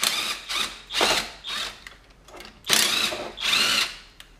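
A power drill backs out the two intake bolts on a 50cc scooter during a big bore kit install, in several short whirring bursts with pauses between them, close and fairly loud, with no talking.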